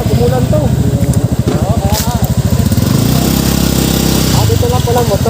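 Motorcycle engine running loud and close on a steep mountain trail, a steady throbbing rumble with revs rising and falling throughout.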